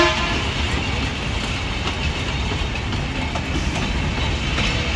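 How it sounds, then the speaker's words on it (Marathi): The Matheran toy train rumbles close by with a dense, continuous roar of rolling wheels and a faint clatter, holding loud and steady throughout. "सुंदर अशी टॉय ट्रेन आहे"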